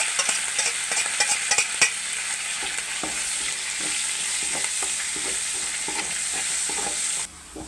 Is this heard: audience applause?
no